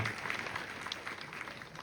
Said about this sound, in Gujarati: કારેલા વાળાને આપણે તાળીઓના નાદથી વધાવી